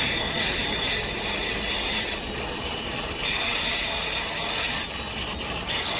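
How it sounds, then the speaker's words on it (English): Knives are being sharpened with close, scraping strokes that rasp in long passes, broken by short pauses between them. "I'm sharpening some knives to weed here"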